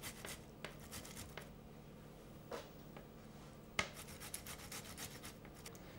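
Parmesan cheese rubbed against a steel cheese grater in a kitchen, quiet rasping scrapes repeated at an irregular pace with a few sharper strokes, close and faint.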